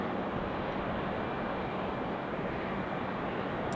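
A JetBlue airliner passes at Raleigh-Durham International Airport, a steady broadband jet roar holding loud and even throughout with no voices.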